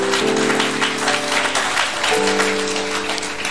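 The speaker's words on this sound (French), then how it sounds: "Est-ce qu'on peut acclamer la parole du Seigneur?" A church congregation claps steadily in loud, sustained applause for several seconds, dense and even throughout with musical tones ringing underneath.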